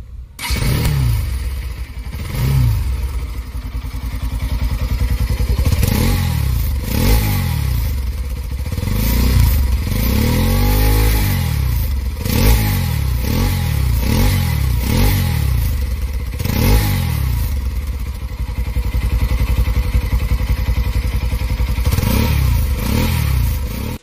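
A Bajaj Pulsar NS200 motorcycle engine running on Motul 10W50 oil runs close by, revved repeatedly in short throttle bursts over a steady idle, loud throughout with no voices.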